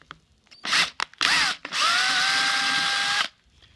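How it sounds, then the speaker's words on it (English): A power drill bores a hole while a WildGame Innovations Quick Set 225 tripod deer feeder is assembled: a few short, loud bursts, then one steady run of about a second and a half, close by with no talk. "I'm going to drill my first hole."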